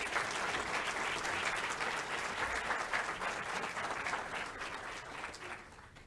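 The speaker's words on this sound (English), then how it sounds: "Can we give all of these students another round of applause?" Applause for graduating students at a university graduation celebration, a full crowd clapping steadily and tapering off in the final seconds.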